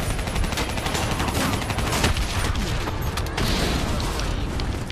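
Sustained heavy gunfire in Call of Duty: Black Ops 3 as a squad focuses fire on a VTOL aircraft, with dense rapid automatic bursts and booms filling the whole stretch, loud and continuous.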